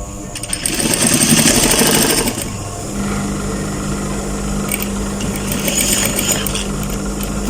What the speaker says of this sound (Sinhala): මෙතන මහලා නවත්තනවා.